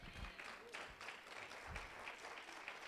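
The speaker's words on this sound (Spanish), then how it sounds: "celebre y déle ese fuerte aplauso al Señor" A church congregation claps during a Spanish-language vigil service, with fairly quiet, distant applause and rhythmic bursts of clapping throughout.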